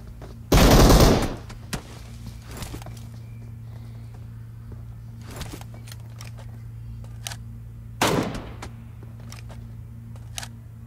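Gunfire from the PUBG battle royale video game: a loud broadband burst of shots near the start and a second shorter burst around eight seconds, with faint scattered distant shots between over a steady game hum.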